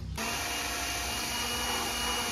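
A jigsaw buzzes loudly and continuously after a brief quiet start, with a steady high-pitched motor whine, cutting a mounting hole in a boat.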